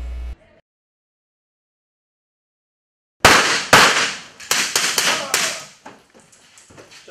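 Training rounds snap off in a quick cluster of sharp, loud cracks inside an elementary school during a police active shooter drill, several shots in close succession after a silent stretch, then fading to sparse, quieter clatter.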